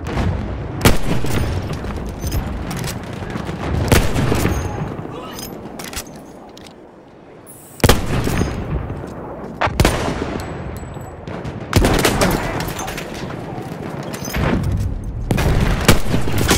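Machine gun fire in the first-person shooter Battlefield 1 on the Fort de Vaux map: loud bursts of rapid gunfire and booming shots in repeated volleys, with brief lulls and game voice lines mixed in.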